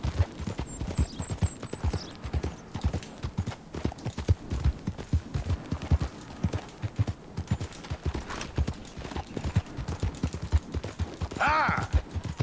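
Horse hooves clip-clop steadily in Red Dead Redemption 2, a brisk even rhythm of close, distinct beats running throughout, with a brief whinny near the end.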